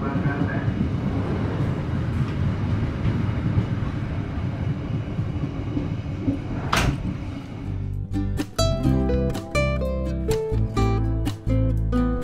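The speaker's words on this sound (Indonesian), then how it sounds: "Sepertinya ini adalah kereta Walahar dari Cikarang tujuan ke arah Purwakarta." Walahar local commuter train, running from Cikarang toward Purwakarta, roars past on the rails. Loud rumble and wheel noise fill the first half, then give way to rhythmic clacking from the wheels over the rail joints, close by and continuous, with no talk.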